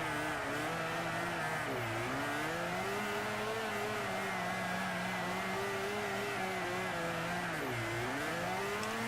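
Mazda RX7 rotary engine in Forza Motorsport 4 during a drift race, a sustained high-revving buzz that rises and falls steadily, dipping sharply twice as the throttle lifts, loud and continuous throughout.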